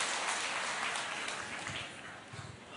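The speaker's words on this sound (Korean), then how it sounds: "여러분들 함성이 좀 달라진 것 같아요" A large audience at a company presentation lets out a broad, sustained roar of cheering and applause, a dense wash of crowd noise that gradually fades toward the end.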